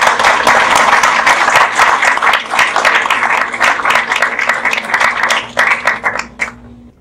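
A lecture audience claps to welcome a speaker at a talk on marker-assisted selection in hair sheep, dense sustained applause that thins out and fades over about seven seconds.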